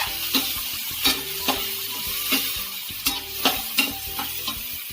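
Carrots, green chili and beans stir-fry in a pan, a steady sizzle broken by repeated scraping strokes of the stirring spoon, close and moderately loud with no talking.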